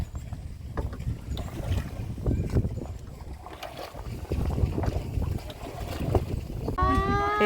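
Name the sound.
kayak ride on Phukod lake, Wayanad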